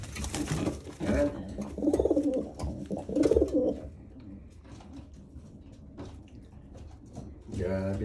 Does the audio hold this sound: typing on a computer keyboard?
no